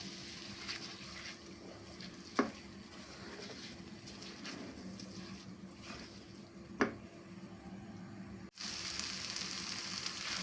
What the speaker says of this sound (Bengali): দুই থেকে তিন মিনিট চালটা একটু ভেজে নিতে হবে